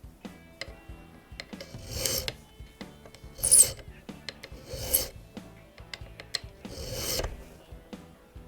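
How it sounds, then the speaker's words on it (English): A hand file rasps the end of a clock pin held in a pin vise, squaring and bevelling it at 45 degrees: four or five short, close scraping strokes spaced a second or two apart, with small clicks between. "Once again, 45-degree bevel on the end. File carefully"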